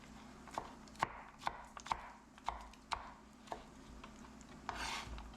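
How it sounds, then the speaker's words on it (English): A knife chops peeled potatoes and onions on a board for stew, about a dozen crisp, evenly spaced thunks, fairly quiet and close, with no talking. "The potatoes and onions have been peeled. Now we're going to cut them up and ready to saute."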